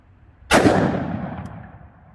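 A single sharp, loud report from a Smith & Wesson Model 69 .44 Magnum revolver with a 2.75-inch barrel, fired outdoors, with a long ringing decay trailing off afterward.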